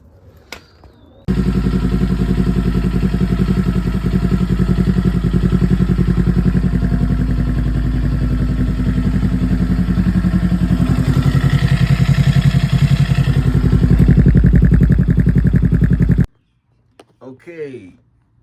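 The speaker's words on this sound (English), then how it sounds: "run the engine for a good 2-3 minutes" A 2021 Kawasaki Ninja 400 engine runs just after an oil change, holding a steady, loud, close idle with a deep throb for about fifteen seconds before cutting off abruptly, with a brief faint noise afterward.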